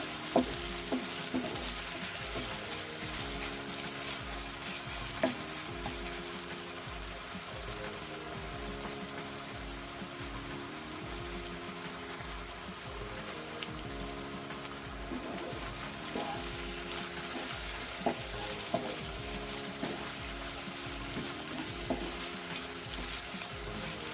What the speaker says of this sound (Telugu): ఈ అల్లం వెల్లుల్లి పేస్ట్ కొంచెం పచ్చివాసన పోయే వరకు మనం ఫ్రై చేసుకుందాం.